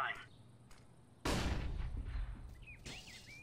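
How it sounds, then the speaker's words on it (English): A flashbang grenade goes off in a competitive tactical shooter match: one sharp, loud, wideband bang that decays into a ringing tail, with quieter game noises and faint voices around it. "Flash bang."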